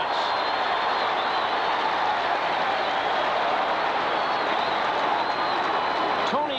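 A college football stadium crowd, Texas at SMU in 1985, roars loudly and steadily as a flag falls for pass interference. The noise is a broad, sustained wash of cheering that barely changes across the stretch.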